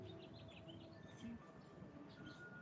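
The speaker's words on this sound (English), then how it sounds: "Can you hear all the birds? They're going crazy." Birds chirping outdoors on a sunny day, faint scattered tweets against a low steady background hum, no talking.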